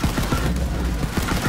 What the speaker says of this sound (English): Fire on that thing! I am firing!